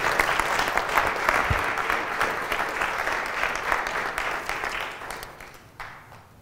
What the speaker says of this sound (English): A huge round of applause for Tahir Ji